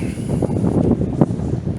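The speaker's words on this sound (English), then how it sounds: "it's like low-key raining. It's very windy" Strong wind blows outdoors on a rainy day, a steady, gusty low rumble buffeting the microphone close up, with no voices.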